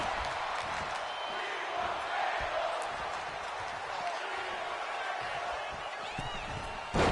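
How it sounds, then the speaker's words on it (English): An arena crowd in the WWE 2K25 wrestling game chants steadily, a dense roar of many voices holding at a constant level throughout with a commentator's voice under it. "The crowd is chanting, "We want tables.""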